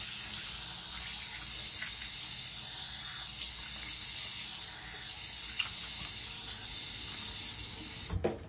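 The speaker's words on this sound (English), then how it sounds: "let me wash this off my face" Tap water runs steadily from a faucet into a sink as a face is washed, a continuous close splashing hiss lasting several seconds before it cuts off abruptly.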